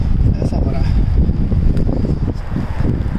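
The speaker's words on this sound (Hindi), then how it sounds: "हवा चल रही है तेज" Strong wind gusting outdoors on a rainy, cold day, a loud, steady broadband rush buffeting the microphone without a break.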